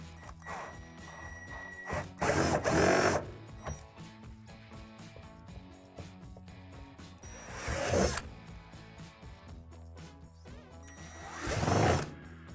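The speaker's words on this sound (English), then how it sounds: "drill out 3 holes from underneath the deck" Three bursts of power drilling from underneath the deck of a Lifetime Double Adventure Tower Deluxe play tower, holes being bored for the slide, each burst about a second long and loud and close, separated by quieter handling noise.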